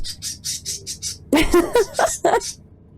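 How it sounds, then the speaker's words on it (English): A string of shrill bird squawks in a video game opens, then several louder, rougher squawking bursts follow close by, clipped and uneven. "They're fine. They're just loud."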